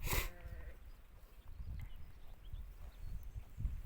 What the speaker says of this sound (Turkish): Koyunlar karnını doyuruyor.